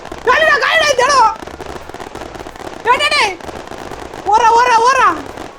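Diwali firecrackers crackle and pop steadily in the background while excited voices cry out over them in loud, wavering bursts.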